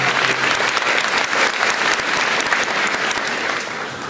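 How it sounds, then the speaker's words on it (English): An audience at a school grand opening evening gives a sustained round of applause for grade 2 singers, dense and loud clapping that holds steady throughout with no talk over it. "So let's have a round of applause once again for them."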